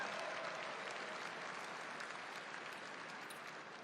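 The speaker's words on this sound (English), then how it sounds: "Round of applause." Steady applause from a large audience at a National Republican Congressional Committee event, loud and continuous throughout with no voices standing out.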